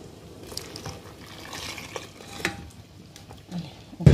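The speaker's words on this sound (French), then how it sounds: "Je vais ensuite mettre mon mélange dans la casserole et continuer de remuer." A spoon stirs a pastry-cream mixture in a saucepan with soft, faint scraping and sloshing, ending in a louder clink against the pan.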